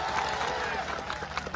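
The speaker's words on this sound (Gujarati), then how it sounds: "એમની માટે જોરદાર તાળીઓ થઈ જાય." A crowd at a political gathering applauding the police, dense and steady clapping from many hands that thins slightly near the end, heard from within the audience.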